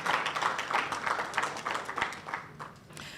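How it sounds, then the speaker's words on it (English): An audience at an annual lecture event claps in a round of applause, a steady patter of many hands that gradually thins toward the end. "If you can have a round of applause because they made this evening possible."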